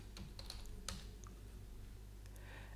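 Fingers tap a computer keyboard while entering a value in CAD house-modeling software, a few quick, faint clicks near the start in a quiet room.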